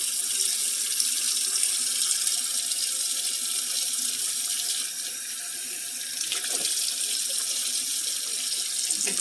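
A kitchen sink fills with water from a running tap, with dish soap added to make it soapy; a steady, close hiss of pouring water continues throughout without pause or talk.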